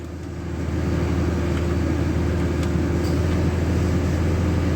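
A 2003 Dodge RAM 3500 dually's engine cooling fan clutch locks up, giving a steady, loud whooshing roar over the idling engine that swells in the first half second and then holds.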